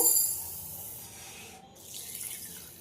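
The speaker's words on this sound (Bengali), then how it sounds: "এবার জল দিয়ে খুব ভালোভাবে ধুয়ে নেব।" Water runs from a kitchen tap into a bowl to rinse red lentils, a soft steady splashing flow, close and fairly quiet, with no talking.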